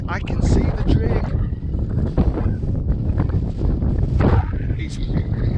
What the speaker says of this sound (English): It's really windy up here, really exposed.